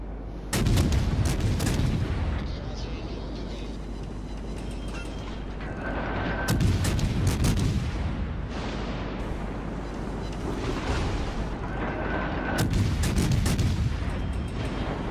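Heavy warship artillery in World of Warships: Legends, with a French destroyer in play, booming in three loud salvos about six seconds apart, each followed by a rumbling decay under continuous battle noise.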